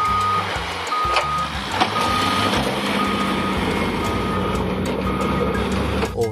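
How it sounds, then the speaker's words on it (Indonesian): Toy dump truck sounding repeated electronic reversing beeps, a steady evenly spaced series playing close and clear for several seconds over a faint mechanical hum. "Wow, ini adalah truk dam teman-teman."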